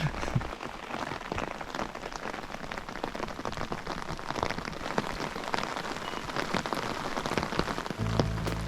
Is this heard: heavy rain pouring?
yes